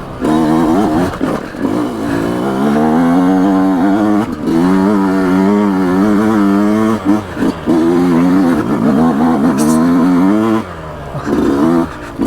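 A Yamaha YZ125X two-stroke dirt bike engine screams loud and close, holding a high buzzing rev with brief dips and surges as gears are shifted.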